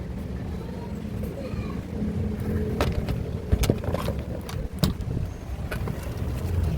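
A repaired Tixx digital air cooler fan blows a steady rushing stream of air, with a few light knocks and clicks scattered through the whoosh.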